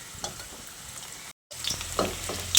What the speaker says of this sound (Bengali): আলুগুলোকে দেখুন এরকম লাল লাল করে ভেজে নিয়েছি।